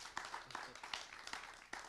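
Audience applause at the close of a panel conversation on race and machine learning at a festival, faint, scattered clapping with sharp individual claps over a soft room wash, no talk.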